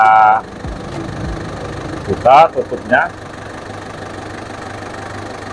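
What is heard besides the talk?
car engine started and idling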